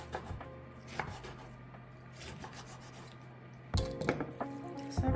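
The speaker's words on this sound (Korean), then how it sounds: "썰어 보겠습니다" Knife chopping aged sour kimchi on a cutting board, a run of close, crisp rhythmic thuds and wet slicing strokes that grows denser and louder toward the end.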